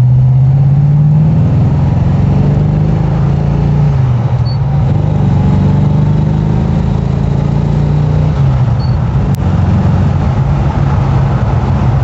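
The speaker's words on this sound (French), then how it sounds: "j'ai écrasé l'accélérateur" An AMC Javelin AMX muscle car accelerating at full throttle on a short straight, its engine roaring loudly and steadily from a close in-car position with a rising drone throughout and no talking.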